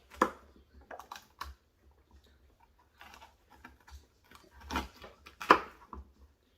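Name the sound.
knife cutting a poblano pepper down the middle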